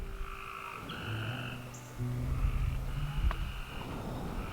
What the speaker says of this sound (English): Can y'all hear the frogs out after this rain?